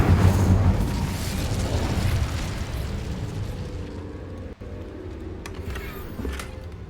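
Incendio fire spell cast in the Hogwarts Legacy video game, a loud roaring burst of flame that surges at once and then crackles and fades over several seconds, with a brief pop near the end and no talk.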